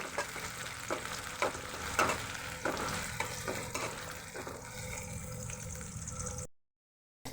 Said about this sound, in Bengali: এখন পেঁয়াজটা আমি ভেজে দেবো, পেঁয়াজ মরিচটা।